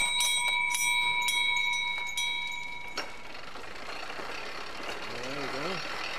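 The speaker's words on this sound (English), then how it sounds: "Ringing the bell." A bell on a rope-making machine rings repeatedly in the first three seconds, bright and close, then gives way to mechanical whirring and a brief voice.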